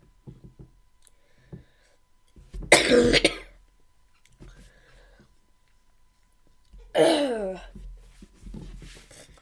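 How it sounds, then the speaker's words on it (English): Two rough bursts of coughing and throat clearing, close to the listener, separated by quiet and small mouth clicks. "Sorry, I gotta clear my throat real quick."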